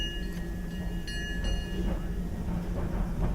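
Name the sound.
Disneyland Railroad train moving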